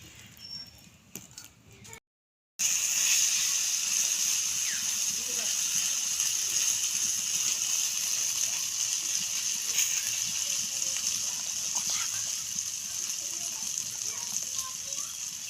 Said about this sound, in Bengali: ডিমটাকে ভেজে নেব কড়াইতে।